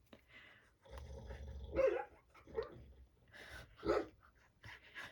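A sleeping, dreaming female dog gives soft muffled barks and whimpers in a few short bursts, close by and fairly quiet, with no talk over them.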